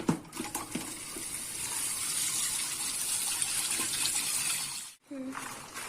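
Dried red chillies are washed by hand in water, giving a continuous splashing, sloshing sound with occasional knocks, which stops abruptly near the end.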